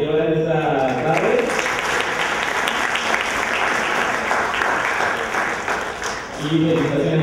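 Audience at a citizen debate contest final applauds the competitors in a long, loud, steady burst, with a speaker's voice heard briefly at the start and again as the clapping fades.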